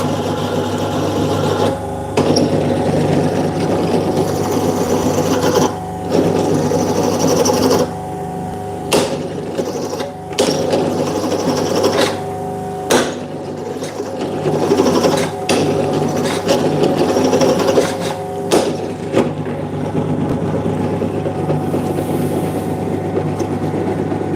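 A power drill's motor whirs loudly and steadily for a long stretch, stopping briefly now and then before spinning up again.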